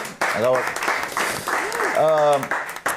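A studio audience applauds on a Georgian late-night talk show, broad clapping that runs beneath someone talking loudly over it.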